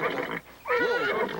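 A spirited, unruly horse lets out a loud, close whinny that rises and wavers for nearly a second after a brief pause, with no talking over it.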